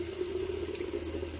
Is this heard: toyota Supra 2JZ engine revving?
no